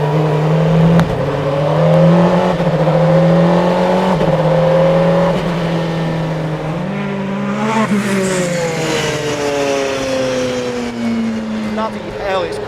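A Bentley Speed 8 Le Mans race car accelerates hard around Anglesey Circuit, its loud engine note climbing in pitch through the gears with brief dips at each shift, heard close from on board.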